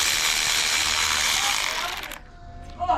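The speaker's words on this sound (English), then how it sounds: "now I could take this bolt off" Ratchet wrench backing off a bolt during teardown of a 2JZ-GTE engine, a dense rapid clicking run close by for about two seconds, then stopping, with faint background activity after.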